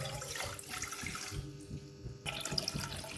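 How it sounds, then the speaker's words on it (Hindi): Water is poured into a saucepan on the stove for kahwa, a steady close splashing and trickling stream that runs the whole time without talk. "इसके अंदर मैं डाल रही हूँ पानी।"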